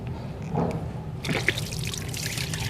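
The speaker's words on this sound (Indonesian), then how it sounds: "Lihat apakah ada air mengalir di sini." Water trickles and pours through a homemade gravity water pump, a short, close run of liquid splashing that swells midway, with no talking.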